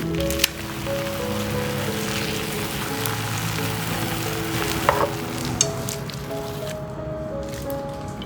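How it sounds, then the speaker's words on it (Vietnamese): Rice roll batter sizzles softly in a hot frying pan under a lid, a steady low hiss with faint crackles running throughout, a few brief clicks near the end. "khi mà đổ vào mình cứ nghe một tiếng xèo xèo nhẹ như vậy là được"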